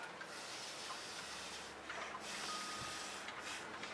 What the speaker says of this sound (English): Moving paint around with a straw.